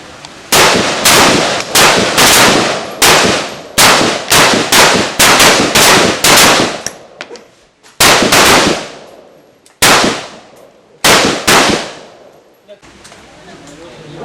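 Shots from an M4 rifle on a firing range, a rapid burst of sharp loud cracks followed by several spaced single shots, each with a short echoing tail.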